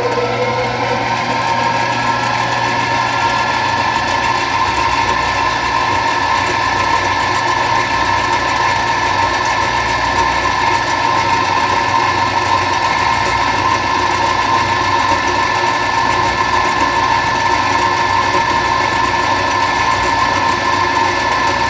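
Steady machine whine of a drill running continuously as a center drill and then a 1/8 drill bit cut into the body of a homemade boring head, constant and fairly loud with no talk.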